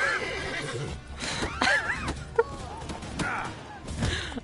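A horse in a video game whinnies and neighs several times over continuous game ambience and faint hoof clatter, moderately loud, with no talk.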